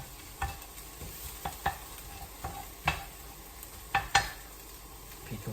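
Turkey mince seasoned with chilli powder and paprika is stirred in a hot frying pan: a low continuous sizzle broken by irregular scraping strokes of a utensil against the pan, close and moderately loud.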